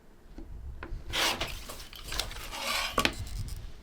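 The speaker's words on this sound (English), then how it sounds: "So that's what I'm going to do here is trim on my solid lines." A paper-pieced quilt block is trimmed along its solid lines, giving soft rubbing and scraping cuts in uneven strokes with a couple of sharper clicks. The sounds are close and fairly quiet, with no talking.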